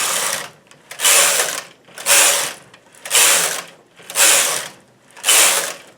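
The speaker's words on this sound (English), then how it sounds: "I'll knit a few rows with the waste yarn." Knitting machine carriage swept back and forth across the main bed, knitting rows of waste yarn: five regular rasping whooshes about a second apart, close and loud, with short quiet gaps between passes.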